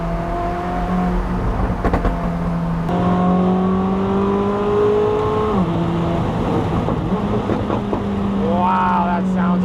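A Koenigsegg Regera engine accelerates in a loud, close, continuous roar that climbs in pitch with a brief dip and recovery, while people talk excitedly over it.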